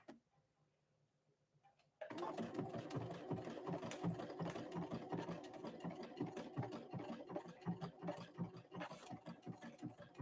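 A Brother Innovis 1500D embroidery machine starts up after a quiet moment and stitches steadily, its rapid mechanical ticking and whirring close and loud with no talking.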